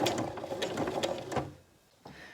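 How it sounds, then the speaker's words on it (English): A domestic sewing machine stitches a half-inch seam in fabric, a quick close mechanical chatter that runs for about a second and a half before slowing and stopping, followed by a faint click. "I'm going to come forward and I'm sewing at 1/2 inch"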